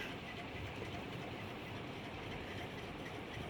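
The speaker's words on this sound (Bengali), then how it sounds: "ট্রেন চলে এসেছে আমাদের অপেক্ষা শেষ" A metro train in Bangladesh rolls into a station with a steady, even rumble and hum that stays constant throughout, heard from the platform at moderate distance.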